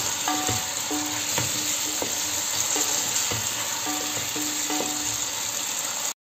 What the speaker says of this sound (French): on fait revenir 2 minutes, comme ça aussi. Je mélange de temps en temps.